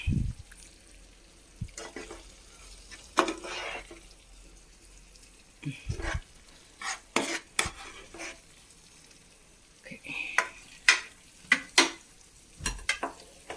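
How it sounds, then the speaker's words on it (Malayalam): Masala for fish biriyani being scooped out of a pot with a spoon, quiet scraping and knocking in irregular bursts over a faint background, with no talking. "പകുതി മസാല നമുക്ക് കോരിയെടുക്കാം"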